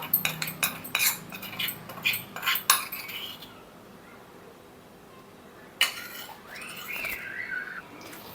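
A steel spoon scrapes and taps against a pan holding a warm beetroot lip balm mixture, making a quick run of close metallic clinks, then quiet, then a few more light scrapes.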